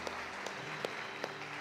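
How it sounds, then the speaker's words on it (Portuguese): A church congregation applauds in a quiet, distant patter, with a few sharper claps standing out over a faint murmur of the crowd. "Vamos aplaudir o Senhor pela vida dela."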